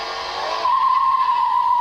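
A car lapping the Top Gear test track skids through a corner, a roaring tyre noise that sharpens into a loud, sustained high-pitched squeal, close and without talk.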